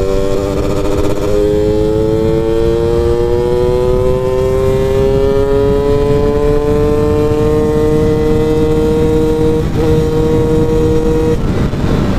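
Yamaha F1ZR two-stroke motorcycle with a lightened clutch housing, running 15/41 gearing, accelerating continuously with a rising engine note that climbs through the gears, steady and loud throughout.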